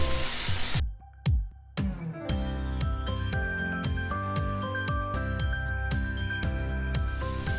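Green vegetables and Maggi atta noodles on a high flame, a loud steady sizzle broken by repeated metallic clinks and scrapes of a spoon stirring in the pan, with a brief near-silent gap at the start.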